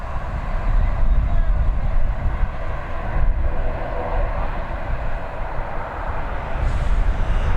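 An airplane takes off at Dublin Airport with a loud, continuous low rumbling engine roar that stays fairly steady throughout, heard from nearby under a faint voice.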